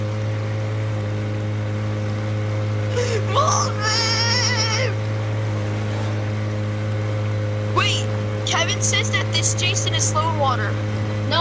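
Steady motorboat engine drone in the video game Friday the 13th: The Game, a constant low hum running the whole time while excited voices shout over it in two bursts.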